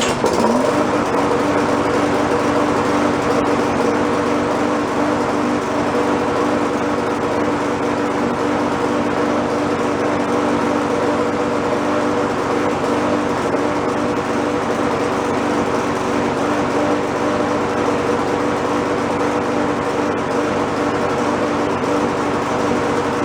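An old, worn lawn mower engine runs continuously at a steady, loud drone with a slight stutter, close by and alone for over twenty seconds.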